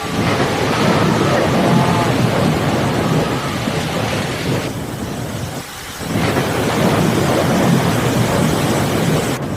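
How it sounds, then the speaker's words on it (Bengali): Heavy rain and wind from a Kalbaishakhi (nor'wester) storm roar outdoors as a loud, dense wash of noise, dipping briefly midway before surging back. "এই বৃষ্টি দেখো, এই ঝড়"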